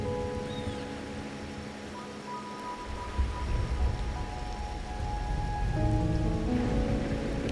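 Rain falling in the Wuthering Waves video game, a steady soft patter with a low rumbling undertone that swells near the end, alone with no voices over it.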